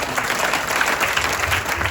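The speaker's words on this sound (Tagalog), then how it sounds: "Malakas na palakpak para sa atin." A church congregation claps loudly together, a dense, sustained wash of applause filling the hall for a couple of seconds.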